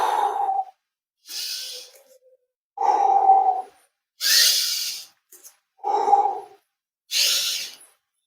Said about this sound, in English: While extending, you have to breathe out.